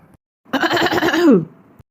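A cow's single harsh, drawn-out throaty cough-like grunt, close and fairly loud, in an otherwise quiet moment.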